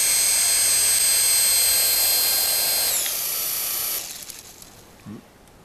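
A toy Minion infrared remote-control helicopter with fly bars, its small rotor whirring with a high, steady whine that drops in pitch and fades out after a few seconds, followed by a faint click.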